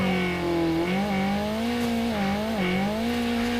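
Car driven in Call of Duty Mobile, a steady engine drone with harmonic pitch rising and dipping as it accelerates and eases off, loud and continuous with no talking.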